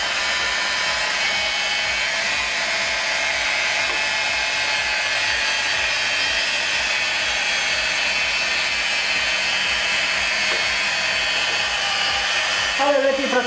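A machine polisher runs at low speed, working Auto Finesse Rejuvenate cleaner onto car paint with a steady, close, continuous whirring drone. It holds evenly throughout, and no one talks.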